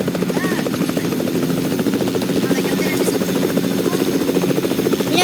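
A helicopter's rotor throbs steadily and loudly throughout, a rapid chopping beat over a constant engine whine, as heard from close by or aboard.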